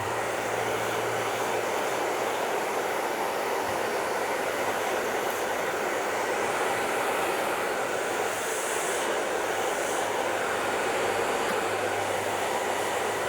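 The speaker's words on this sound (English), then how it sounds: "You can see that I'm drying it in different directions because the hair" A hair dryer blowing a beard dry during a barbershop haircut gives a steady, loud, unbroken rushing roar throughout, with no speech over it.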